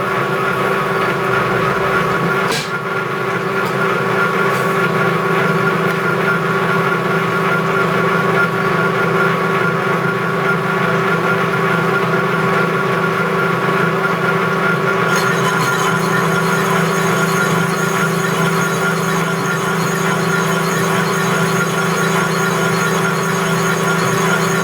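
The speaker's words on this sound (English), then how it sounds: "The last cut, this one's coming continuous off the outside here, and it's going down under the bed of the lathe there." A metal lathe makes a continuous finishing cut on a crusher part, giving a steady, loud mechanical drone with a sustained tonal hum and a faint high whine that holds for the full length, with no talking.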